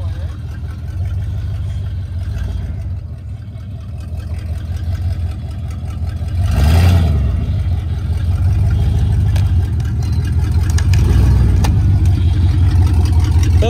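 A Dodge spins its tires in a burnout on plywood, the engine revving loudly in surges over a constant low rumble, with a sharp peak of revs midway and people talking nearby.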